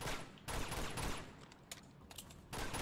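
Rapid pistol gunfire in the action game Uncharted 2, with several quick bursts of shots and loud blasts at the start and end and sparser cracks between.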